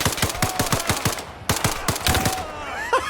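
Automatic rifle fire in Arma Reforger comes in sharp, evenly spaced bursts of roughly a dozen shots, then a pause and a second round of bursts, loud and close with brief echoing tails.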